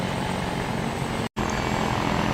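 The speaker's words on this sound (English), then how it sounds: "with the helicopter reporting no more contacts in the area, it is going to fly off back to the FOB or airfield that it had come from" Helicopter in the Arma 3 military game flying away after a convoy battle, its steady rotor and engine drone loud and continuous, broken only by a split-second dropout near the middle.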